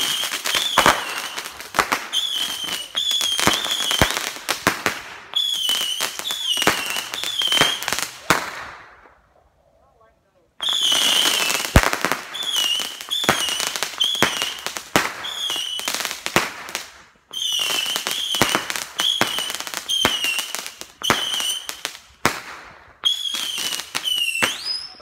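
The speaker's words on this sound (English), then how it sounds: "he's trying to set off more fireworks" Fireworks being set off outdoors around New Year's, a long run of sharp crackling bursts and whistling shells in close succession, loud and near, with one brief lull midway.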